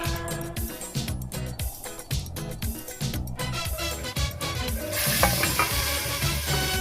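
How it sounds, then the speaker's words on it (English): Garlic frying in a hot pan while cooking dal, a steady close sizzle with intermittent stirring scrapes, growing louder and brighter toward the end as the garlic hits the oil. "Now you add the garlic."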